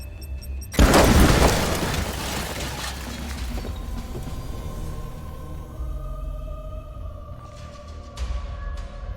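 A single loud explosion from the Warhammer 40k: Chaos Gate video game bursts out near the start, then a rumbling tail slowly fades over several seconds, with faint electronic tones near the end.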